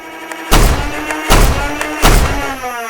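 Nerf Loadout blaster firing foam darts in semi-auto mode, giving three evenly spaced sharp thumps about three quarters of a second apart over a faint motor whir.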